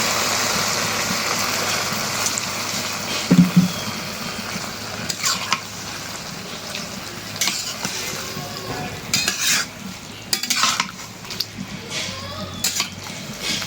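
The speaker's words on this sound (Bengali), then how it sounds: "এখন একটু ঝোলের পানি দেই মাছগুলি মিলানোর নিয়ে" Water splashes into a pan of Bangladeshi fish curry with vegetables, then steady stirring and scraping with a utensil against the pan over a continuous sizzle, with loud clanks and bursts throughout.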